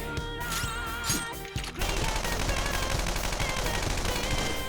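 Rapid gunfire from the video game Persona 5 Royal, a burst of shots followed by a dense sustained volley over game music, loud and continuous.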